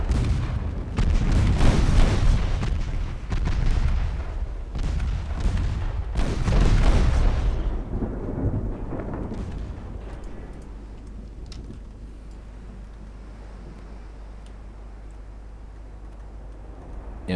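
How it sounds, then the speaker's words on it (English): Mark 5 4-inch naval guns fire in a naval warfare video game set in a 1926 Norwegian campaign: several loud, booming salvos in clusters over the first eight seconds, then fading to a low rumbling ambience. "Mark 5 4-inch guns."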